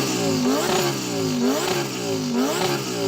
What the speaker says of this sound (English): what we'll do before we race is to rev up our engine